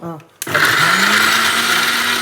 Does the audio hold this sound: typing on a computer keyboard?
no